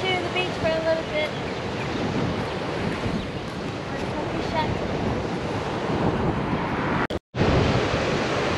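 Surf and wind at a beach on Big Island, Hawaii, a steady loud wash of waves with gusty wind buffeting the microphone, broken by a brief dropout near the end.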